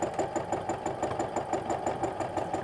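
A sewing machine stitches steadily through free motion quilting of a loop along a loopy meander stencil, a fast even mechanical chatter at close range with no talk.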